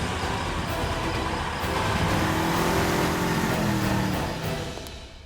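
A car engine starts and revs, building to a loud, rising drone as the car pulls away, then fading off at the end. Nobody speaks.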